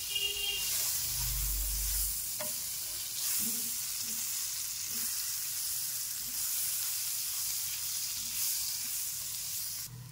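A second batch of high-protein patties fries in a pan, giving a faint, steady sizzle and hiss that continues evenly throughout.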